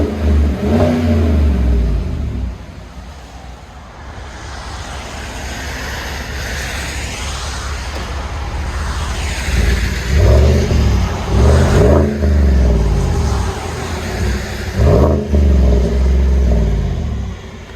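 Loud, deep engine rumble from a 2017 Chevy Silverado 6.2L V8 with a BORLA ATAK aftermarket exhaust, with a short lull, then a series of quick throttle blips revving up and dropping back, heard nearby with no talking.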